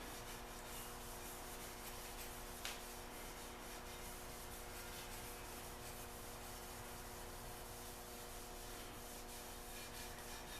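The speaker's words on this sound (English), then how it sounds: "Yeah, the sanding sponge definitely worked better." A sanding sponge rubs by hand over a painted Jeep Wrangler cage part, giving a continuous, even scratchy hiss with no pauses, close and fairly quiet.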